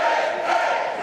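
A packed Thursday-night wrestling crowd in an arena in Newnan, Georgia roars continuously, a loud, dense wall of cheering and shouting with no break.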